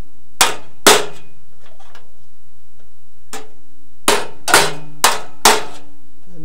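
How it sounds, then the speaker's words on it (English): A hammer strikes the thin sheet-metal grill of a Willys MB Jeep to knock out a crease, giving sharp ringing metallic blows: two quick hits, a lone strike, then four evenly spaced hits, loud and close with no talk. "I'm just kind of hammering square on that crease, and you see it's starting to come back out"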